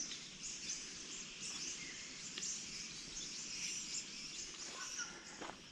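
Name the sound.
birds singing on a forest walk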